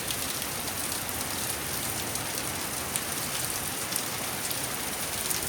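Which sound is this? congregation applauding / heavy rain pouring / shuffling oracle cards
heavy rain pouring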